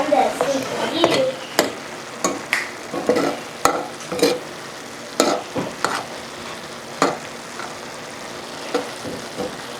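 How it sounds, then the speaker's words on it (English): Seasoned ground venison for tacos stirred around in a hot pan, with repeated scraping clicks of a utensil over a steady sizzle, up close and alone. "Now, I stir it around."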